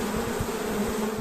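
Honey bees buzz at a beekeeping site in the mountainous Kurdistan Region: a steady, close, continuous hum with no voices over it.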